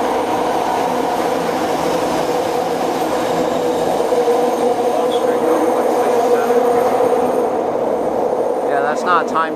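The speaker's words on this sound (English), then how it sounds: "there's another train coming" A BART subway train rumbles steadily through the station, a loud, continuous rolling roar with faint squeals and clatter near the end.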